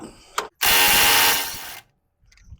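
A metric ratchet tightens the lower ball joint on a 2005 Ford F150: a brief click, then a loud, close, continuous whirring burst lasting about a second before it stops, with faint clicks after.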